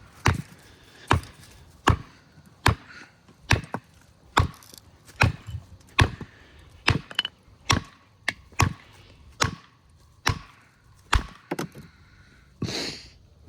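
Knife chopping wood in a series of about sixteen sharp, evenly spaced whacks, each blade strike a crisp impact followed by quiet, with one softer scraping sound at the end.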